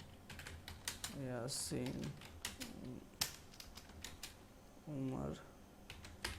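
Keys on a computer keyboard clack in quick irregular bursts while words are typed into a Microsoft Word table, close and crisp, with someone talking over the typing.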